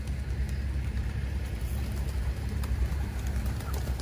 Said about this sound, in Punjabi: ਵਾਹ ਕਿੰਨੀਆਂ ਚਿੜੀਆਂ ਨੇ